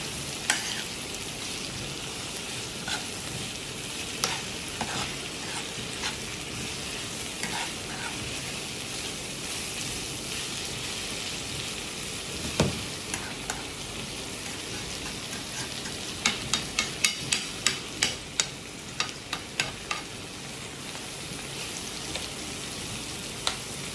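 Onions for an onion tart caramelizing in a frying pan. A close, continuous sizzle runs for the full stretch, broken by scattered utensil taps and a quick burst of clicks and scrapes toward the end, with no talking.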